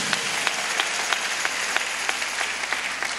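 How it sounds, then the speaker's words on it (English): A church congregation claps in praise at a service, a steady wash of many hands with sharper individual claps standing out at a roughly even rhythm throughout. "give him a really big clap of praise."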